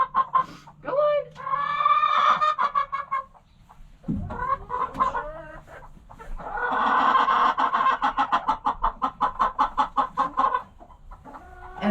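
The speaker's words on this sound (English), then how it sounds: "Oats is not a nice hen." Hens cluck in a farm coop, loud and close, in rapid repeated bursts. Several birds overlap, with short pauses and a longer, drawn-out run of clucks near the end.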